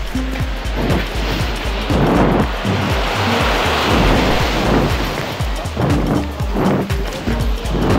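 Sea waves roll onto a beach near Chen Chau Tung Wan in Hong Kong, a loud continuous roar of surf with repeated crashing swells and a wind-like rush throughout.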